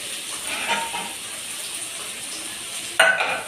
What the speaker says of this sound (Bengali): পনিরটাকে হালকা করে একটু ভেজে নিচ্ছি বন্ধুরা